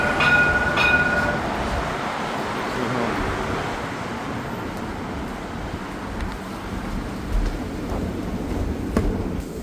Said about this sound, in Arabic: هذاك المترو.